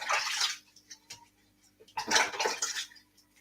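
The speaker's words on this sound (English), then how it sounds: "I'm going to rinse my hands again." Running tap water splashes over hands being rinsed in a kitchen sink during burger prep, in two bursts of close, hissing flow separated by a quiet pause.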